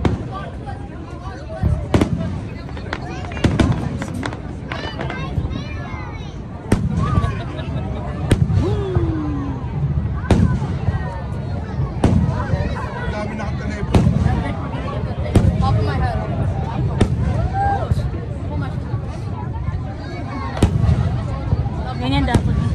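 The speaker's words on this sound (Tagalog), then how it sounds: "Fireworks." Fireworks burst at Niagara, with sharp booms and crackling pops coming in an irregular series over a steady crowd murmur. People talk throughout.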